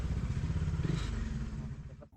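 A Bajaj Dominar 400 motorcycle rumbles in low gear through city streets, a steady throbbing engine note close by that eases off at the end.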